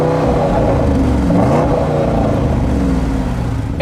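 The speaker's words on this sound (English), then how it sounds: "the Sport exhaust sounds really, really good. Take a listen." An Audi RSQ8 luxury SUV's sport exhaust roars steadily up close, a loud, continuous engine drone with rising and falling rev pitch and no talking.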